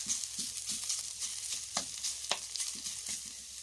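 Salted radish stir-frying in a pan until crisp, ahead of adding eggs, a bright steady sizzle with quick rhythmic stirring scrapes close by and no voices.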